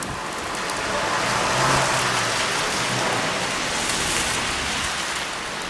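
Steady rain falls outdoors on a cold day in Volterra, Italy, near the Palazzo dei Priori, making a continuous broadband hiss that holds at an even level throughout, with no voices.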